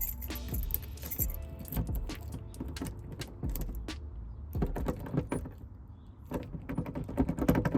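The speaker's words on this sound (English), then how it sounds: "Shoot, I think these are the wrong keys." A bunch of keys jangling and clinking close by, in irregular metallic bursts with brief pauses and handling sounds, with no talk.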